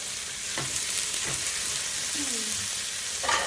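Vegetables sautéing with cumin and cayenne for a Mexican vegetarian soup, a soft continuous sizzle in a pan with a few stirring scrapes, no talking.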